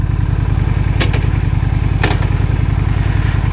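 A motorcycle on a ride through Baltimore streets, its engine thrumming in a steady low pulsing drone close to the microphone, with a couple of brief clattering knocks over the continuous motor noise.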